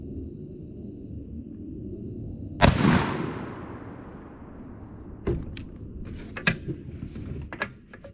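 A single loud Mossberg 940 Pro 12 gauge shotgun blast fitted with a Jebs 650 choke, fired outdoors, with a long ringing decay, followed by several faint distant pops and clicks.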